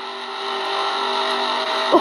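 Racing cars in a video game, engines holding a steady high whine with a crash or impact near the end, loud and continuous with no talk over it.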